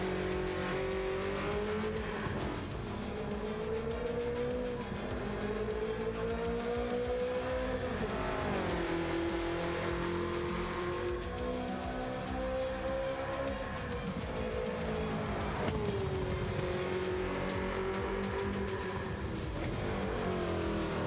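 A street car engine in Gran Turismo 7 drones at high revs, its pitch climbing and dropping through repeated gear changes and shifts, loud and continuous with faint tire squeal.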